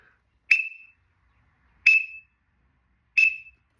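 Teal peep from a duck call whistle, produced by tonguing the back of the whistle: three short, bright, clean peeps spaced about a second and a half apart, close and alone with no voices.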